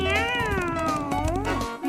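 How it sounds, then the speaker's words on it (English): A cartoon cat gives a single drawn-out meow with a rising and falling pitch, close and clear, in a children's animated show. "Meow."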